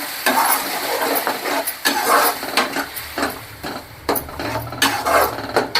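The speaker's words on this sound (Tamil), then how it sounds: "இந்த மாதிரி வெங்காயம் வதங்கி வந்த பிறகு நாம் அரைச்ச தக்காளியை அது கூட சேர்த்துடலாம்" Ground tomato being stirred into sautéed onions for an egg gravy, with repeated scraping and clanking strokes of a spoon against the pan over a soft sizzle, close and fairly loud, no speech.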